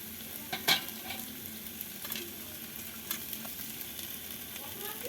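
A spatula scrapes and turns a sago pulao mixture with vegetables, coconut, cashews and raisins in a hot pan, one sharp clank near the start, then softer stirring strokes over a quiet sizzle.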